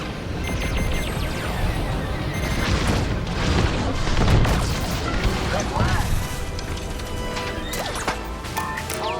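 A bomber is destroyed in the Star Wars Squadrons space combat game, a loud booming blast and crash amid dense engine roar and weapon fire, with voices speaking over it.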